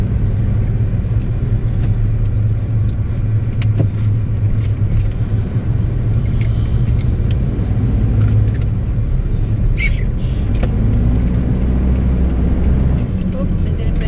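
A car drives slowly in road traffic on a trip from Tarlac to Bicol. The engine and road rumble are loud and constant, with occasional clicks and other traffic, and voices talk over the noise.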